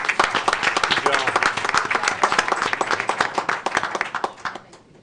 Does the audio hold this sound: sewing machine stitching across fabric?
no